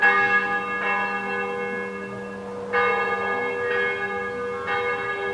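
Church bells ring loudly and steadily, struck tones recurring about every second with long overlapping hum, close by and alone with no voices.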